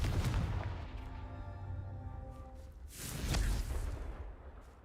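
A Confringo fire spell blasts in a Harry Potter dark arts video game, a loud booming whoosh that rumbles and fades, followed by a second swelling burst of explosive noise, with no voices.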